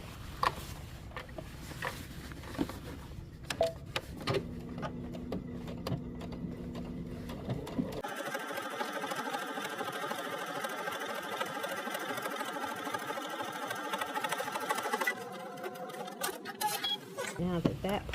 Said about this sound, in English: folding that over and sewing the seam onto the lining